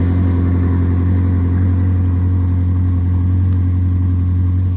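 A 2010 car engine idling high just after a cold start, a loud steady low hum with a constant even drone, close up and with no voices.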